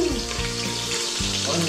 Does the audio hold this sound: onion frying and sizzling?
yes